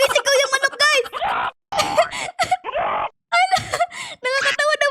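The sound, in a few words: chicken screaming in Roblox Escape Nightmare Huggy video game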